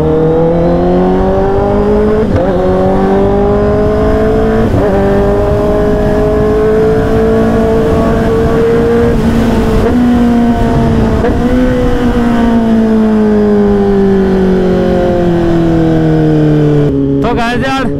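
A superbike engine at close range revs hard through repeated rising gear pulls, a loud continuous roar climbing and dropping in pitch as the bike rides off on the road.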